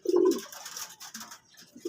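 A single close pigeon coo, low and rounded, followed by faint soft chirps and rustling in a quiet setting.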